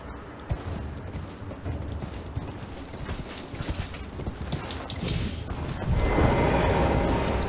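Horse hooves clip-clop in the video game Elden Ring, a quick uneven rhythm of close hoofbeats that grows louder and busier toward the end, with no talking.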